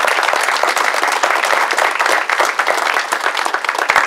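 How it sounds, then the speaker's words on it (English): Dinner-hall audience at an awards banquet claps steadily in a dense, even wash of applause that holds for the whole stretch without pause. "So would you give yourselves a round of applause for those folks?"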